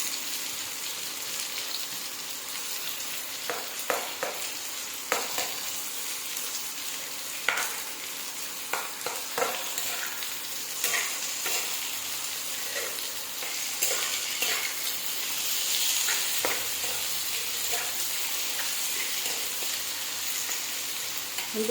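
Onions frying in a pan for a prawn curry, stirred now and then: a soft continuous sizzle broken by irregular scrapes and taps of a spoon against the pan, close up and with no voices.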